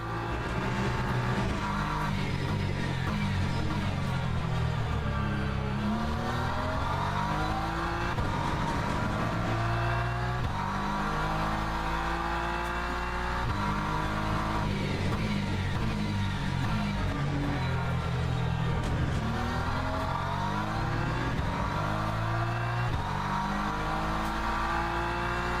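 A GT3 race car engine in Le Mans Ultimate runs steadily through a lap, with continuous loud revving that rises and falls through gear changes and corners, with no talking.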